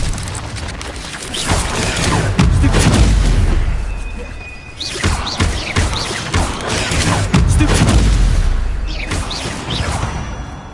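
An Incendio fire spell erupts in a video game: loud, heavy booming blasts and crashing rumbles that swell and fade across several seconds, with repeated bursts and no voices.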